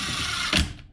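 A short, close mechanical ratcheting as screws are tightened on an Ultima RS firewall during an engine rebuild, a brief clicking burst ending in quiet.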